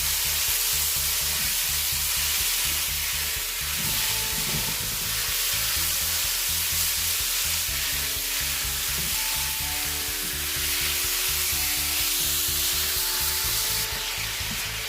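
Beef sizzles and fries loudly in a pan with plenty of garlic, a steady crackling hiss that runs unbroken the whole time with no voices over it.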